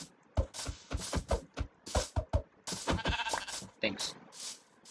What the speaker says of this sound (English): Sheep, come back here.